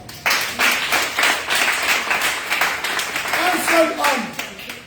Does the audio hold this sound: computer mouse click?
no